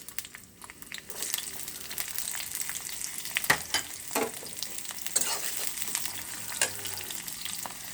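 Onion and garlic frying in a pan for a Bengali dried-fish, eggplant and jackfruit-seed dish, a steady soft sizzle broken by repeated scraping stirs and light clicks of a spoon against the pan.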